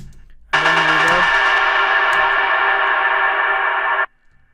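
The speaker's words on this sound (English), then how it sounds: "you just want the tail of the sound, basically, like the reverb of the sound" A bright, dense industrial techno synth tone sustains for several seconds with a washed, echoing reverb texture, then cuts off leaving only a faint trailing reverb tail.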